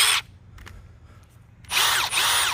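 A Milwaukee Surge hydraulic impact driver runs freely with the trigger pulled, giving a loud high whirring burst, a quiet pause, then two more close whirring runs in quick succession.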